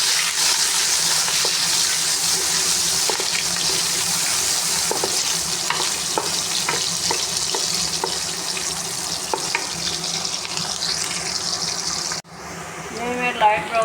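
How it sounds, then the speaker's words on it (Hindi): Onions sizzle loudly in a cup of hot ghee, a steady dense frying hiss with occasional stirring clinks that cuts off abruptly near the end, followed by brief softer sounds. "इसमें अब मैं प्याज डालूँगी। प्याज़ों को मैं फ्राई करूँगी।"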